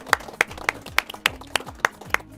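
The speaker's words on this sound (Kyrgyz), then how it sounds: "Команда бир кол чаап коелу анда." A team on a Kyrgyz TV quiz show gives a short round of hand claps, with about eight crisp, evenly spaced claps in a steady rhythm, close and fairly loud, and no talk over them.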